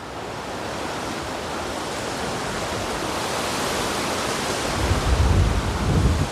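Strong wind buffets the microphone on a forested slope of Mt. Makiling near Sto. Tomas, Batangas, a steady broadband roar that surges louder and gustier toward the end, with no voices.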